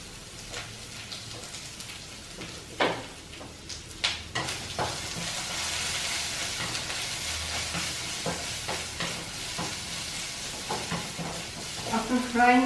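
Ginger and garlic paste with a pinch of salt fries in a pan for a Naga-style smoked pork pickle, a steady close sizzle broken by sharp stirring scrapes and clatters.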